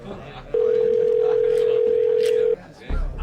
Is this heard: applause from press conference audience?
no